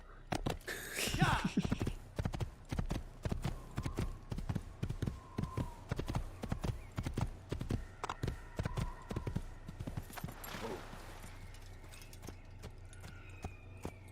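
Horse hooves clip-clop steadily in Assassin's Creed, a rapid run of sharp rhythmic knocks that slows and fades near the end, with a brief whoosh and game ambience behind and someone talking over part of it.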